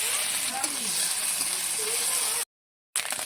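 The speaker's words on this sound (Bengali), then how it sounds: "আগে ডিমটা ভেজে নেব" Fish roe frying in a pan for a Bengali red curry, a loud continuous sizzle and crackle close up, cut by a brief silence near the end.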